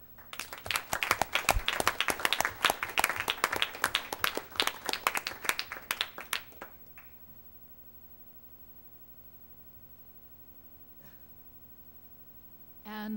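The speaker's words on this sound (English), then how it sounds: "I think that you all deserve a round of applause for your tireless work." Applause at a board meeting, a burst of dense clapping from a room of people that fades out after about six seconds into quiet room tone.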